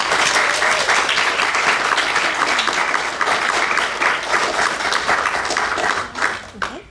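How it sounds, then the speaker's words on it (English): Audience applause for poetry recitation competitors, dense and loud clapping from a large crowd sustained for several seconds before thinning out at the end. "please give them a full round of applause."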